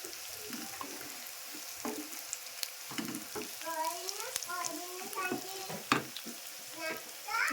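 Curry leaves, garlic and tempering seeds sizzle and crackle in hot tempering oil with scattered pops and bursts. A cook stirs now and then, and some speech-like tones sit in the mix.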